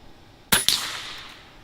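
Two sharp pellet shots from an air rifle at a target, close and loud, one right after the other, each with a short metallic ring that fades out.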